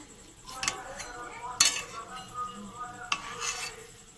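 Singaras being fried are stirred slowly, with metal utensil clinks and scrapes against the pan over a faint bed of sizzling oil.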